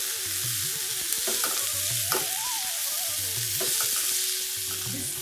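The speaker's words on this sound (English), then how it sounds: "Mix all these ingredients properly" Grated coconut and lemon juice being stirred into rasam rice, a spoon scraping and mixing in steady, close strokes over a soft continuous sizzle-like hiss, with no talking.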